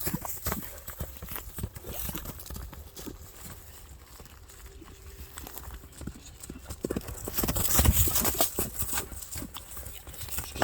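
Hooves of a horse clip-clop in a steady, quick rhythm as the animal turns left and right, swelling louder and closer near the end with scuffing and outdoor noise.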